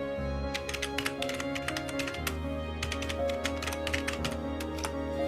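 Rapid, uneven clicks of a computer keyboard being typed on continuously, fairly close and crisp, with short pauses between bursts of keystrokes and no talking.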